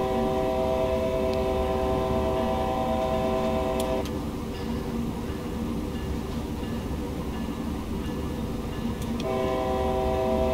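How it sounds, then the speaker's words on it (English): Train simulator game on the NEC Boston route with pulse code cab signaling: a steady, loud locomotive rumble with sustained tonal drones that shift twice, running continuously without talk. "It's funny to drive trains to be able to buy a game of train driving."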